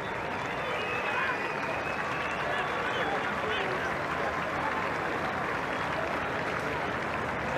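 A stadium crowd at a rugby sevens tournament applauds in a continuous distant roar of clapping as a team takes a lap of honour, with a commentator talking over it.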